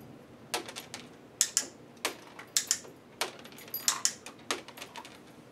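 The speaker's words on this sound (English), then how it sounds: "As soon as all 4 paws are in there, I'm going to click and toss a treat." Dog training clicker used during crate training, sharp clicks sounding singly and in quick pairs at irregular intervals over several seconds, close and fairly clear over a quiet room.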